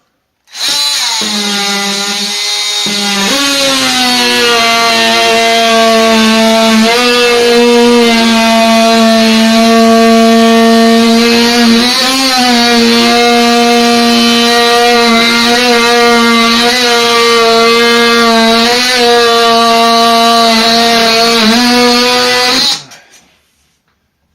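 A power tool trims bathroom drywall with a loud, close, steady high-pitched whine. It runs continuously for about twenty seconds with slight wavers in pitch, then cuts off abruptly.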